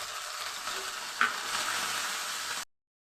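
Garlic, onion, ginger and green chili paste frying in hot oil with whole cumin and bay leaf, a steady close sizzle with a brief sharp clink partway through, then cutting out abruptly.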